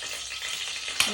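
Oil splattering and sizzling in a pan while food fries, a steady dense hiss through the short moment that swells into a sharper crackling burst near the end.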